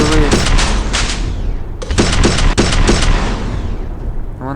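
Rapid bursts of gunfire in the multiplayer shooter game Infinity Ops crack repeatedly, loud and close, with clustered volleys and a short lull before another string of shots.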